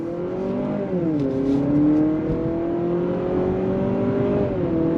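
A 2025 Honda CR-V Sport L Hybrid accelerates, heard from inside as a smooth humming engine tone with artificial engine sound played through the cabin speakers, rising and dipping steadily throughout.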